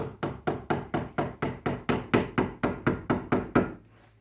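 A piece of soft steel is clamped in a vise and bent over with a series of about fifteen evenly spaced, sharp knocking hammer blows. The blows are close and loud and come without a pause.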